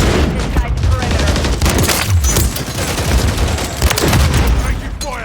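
Dense gunfire in the video game Modern Warfare 3, with rapid overlapping shots and booms in a loud, continuous barrage, while in-game voices call out over the firing.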